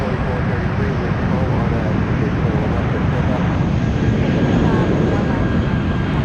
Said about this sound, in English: United clear for takeoff.